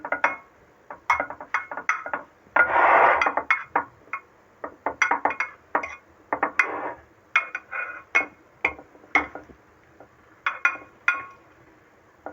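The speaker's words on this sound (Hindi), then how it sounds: "चम्मच की मदद से इसे हम इस तरह अच्छी तरह से सेट करेंगे।" A metal spoon clinks and taps against a dish while kunafa is pressed and set in place: a string of sharp, close, irregular clinks with one longer scraping rustle, and no voices.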